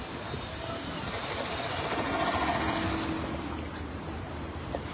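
A metro train arrives at a station with a steady rumbling roar that swells toward the middle and holds on, faint tonal squeals riding over the noise, and no clear talk.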